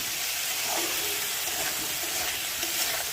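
Cumin and coriander powder sauté in a hot pan, giving a dense, steady sizzling hiss that stays at an even loudness throughout.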